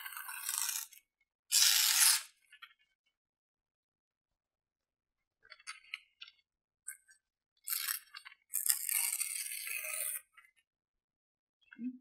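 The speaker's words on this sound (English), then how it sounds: "I think I'll rip it because I like the way ripped paper looks on collage." A crossword page from a newspaper is ripped by hand into collage pieces, with several short, crisp tearing bursts separated by quiet gaps and no talking.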